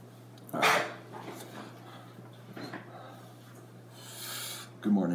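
A dog barks with one loud, short burst near the start and another at the end, with a quieter bark in between, over steady low hum and some talk.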